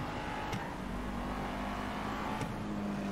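A car engine in a driving video game hums at a steady, moderately quiet drone with faint brief clicks, running continuously without speech.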